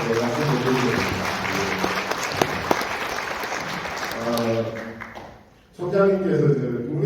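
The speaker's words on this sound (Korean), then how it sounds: "박수 좀 쳐드리고 싶고" Audience applause at a business CEO seminar held in a hotel, a steady wash of many hands clapping close by for several seconds, briefly dropping away before resuming strongly near the end.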